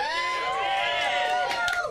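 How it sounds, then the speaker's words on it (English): Crowd at a live funky jungle show in Providence, Rhode Island, cheering and whooping loudly and continuously, with a shouted voice on top. "You guys got to cheer, please."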